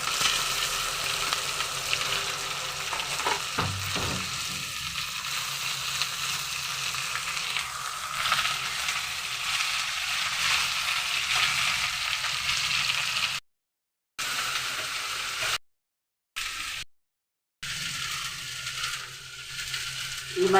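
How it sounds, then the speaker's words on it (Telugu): Ivy gourd pieces dropped into hot oil with a crackling spice tempering fry with a steady, close sizzle throughout, with a few brief drop-outs near the end. "తాలింపు బాగా వేగిన తర్వాత నూనె మరిగిపోయింది కదండి. తాలింపు పేగి వేగిపోయింది. దొండకాయలు వేసేసుకుంటున్నాను."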